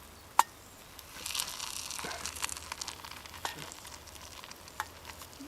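A spoon scrapes and digs through burnt cherry cobbler in a metal canteen cup, with a sharp clink at the start and then a few seconds of close, gritty scraping with scattered taps.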